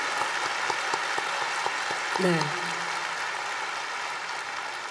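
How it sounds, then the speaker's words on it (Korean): A church congregation at a 40th anniversary worship service gives a big, sustained round of applause, a dense steady roar of clapping throughout, with a brief spoken word and a short voice heard over it midway. "우리 큰 박수 보내드립니다"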